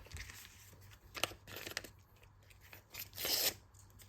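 Paper surprise packet being torn and crinkled open to reveal a clothing collection, heard as a few quick, close ripping bursts with a longer, louder tear near the end.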